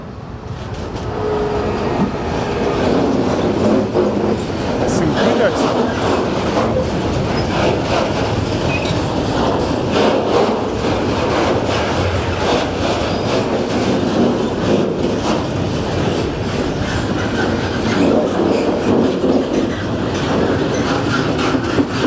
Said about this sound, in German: So, da kommt der Zug.